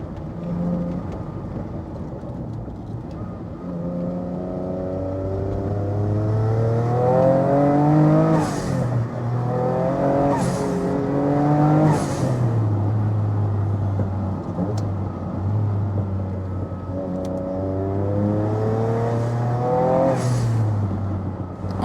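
A Noble M12 3R, a British sports car with a turbocharged engine, accelerating hard along a road, its engine note climbing through repeated gear pulls with brief dips between shifts, loud and continuous with no voices.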